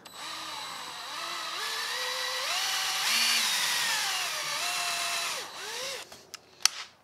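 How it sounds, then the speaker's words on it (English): A power drill whirs up and winds through rising and falling pitch as it drives a screw during a Cessna 172 flight-simulator yoke build, close and loud, ending with a couple of sharp clicks. "we're gonna drill it in"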